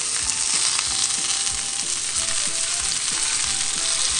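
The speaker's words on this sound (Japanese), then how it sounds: "こんなして焼いてるうちにさ、巻いてるニンニクの芽にも火が入っていくよ" Pork belly slices wrapped around garlic scapes frying in a single pan, a loud, steady close sizzle with faint popping of fat throughout, and no voices.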